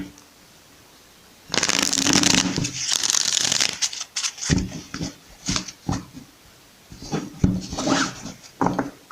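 Tarot cards being shuffled by hand, a long riffling burst followed by several shorter shuffles in an uneven rhythm, close and fairly loud, with no talking.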